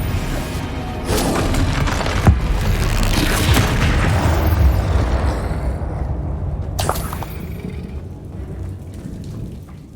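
Confringo fire spell blasting in Hogwarts Legacy, a long loud rumbling explosion with crackling debris that swells, then fades, followed by a sharp late crack, no talk.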